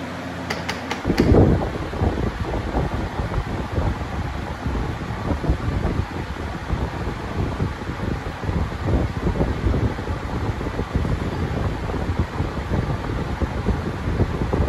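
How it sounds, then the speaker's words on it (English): A 2010 20-inch Lasko Wind Tunnel fan runs on high, a loud steady rushing roar of air that holds constant throughout after a brief click as the setting changes at the start. "So as you can tell, very loud but very powerful."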